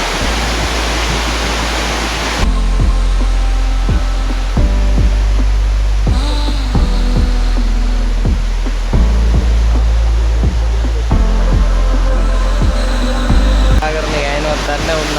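Peessa waterfall, a hidden cascade in Uva province, roars as a loud, steady broadband rush that fills the whole clip, with periodic thumps and tonal noises layered over the constant torrent.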